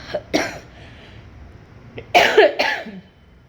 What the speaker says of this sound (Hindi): अभी मुझे जो खांसी आई